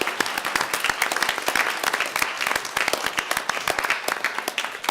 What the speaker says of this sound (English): Can we have another round of applause for the teams?